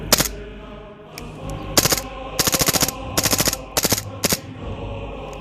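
Taurus PT99 airsoft pistol firing on full auto, loud and close, in several rapid bursts of clattering shots separated by short pauses.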